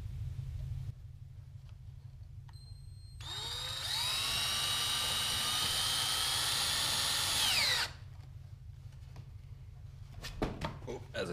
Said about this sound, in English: I'm gonna go ahead and drill through them now.